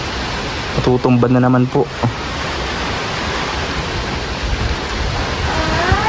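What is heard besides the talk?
strong typhoon wind and rain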